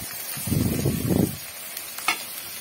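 Onion dropped into hot oil with whole spices for a chicken sauce fry sizzles as it is stirred, giving a brief rustling surge followed by a quieter steady fry and one sharp utensil clink.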